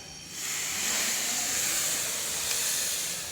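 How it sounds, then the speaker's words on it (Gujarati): A hot spice tempering with asafoetida is poured into kadhi, and a broad hissing sizzle swells up quickly and holds steady and loud to the end, with no one speaking. "હવે આપણે વઘાર છે તે કઢીમાં રેડી દઈશું."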